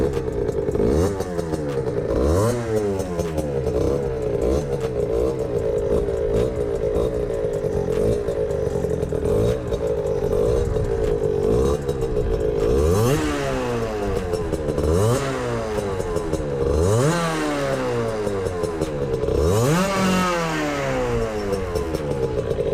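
A small motorcycle engine, started for the first time after repair, sputters to life and runs. It revs up and down repeatedly with a buzzy, rattling tone, loud and close for a long stretch.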